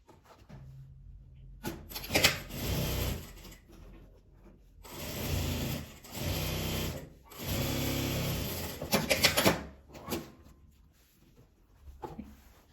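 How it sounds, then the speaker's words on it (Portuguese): A sewing machine joins two layers of denim for a double-sided jeans tote bag, running in three close, steady bursts of stitching separated by short pauses. "Agora eu vou emendar os dois tecidos."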